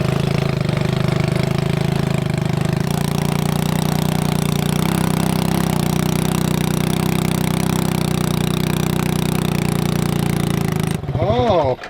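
A small mini jeep engine drones loud and steady close by as the vehicle climbs a slope on small tires, with the pitch shifting partway through before cutting off near the end, where a voice briefly speaks.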